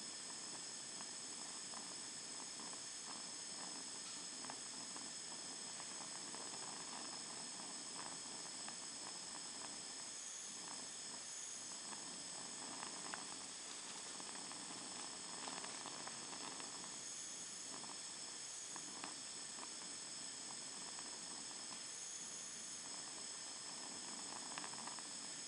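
Magnesium heated while reacting with steam gives a continuous hiss and rushing roar, steady and moderately loud for the whole stretch, with faint crackly flickers and no speech.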